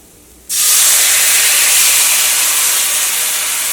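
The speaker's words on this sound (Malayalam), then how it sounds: "വാളംപുളി ഉണ്ടായിരുന്നില്ലേ, അത് ഞാനിവിടെ കുറച്ച് വെള്ളം ഒഴിച്ചിട്ട് പിഴിഞ്ഞ് വെച്ചിട്ടുണ്ട്. ഇത് ഇതിലേക്ക് ചേർക്കാം." Tamarind water poured into a hot pan of ivy gourd (kovakka) curry, bursting into a loud, sudden sizzle that holds steady and hissing to the end, with no talk.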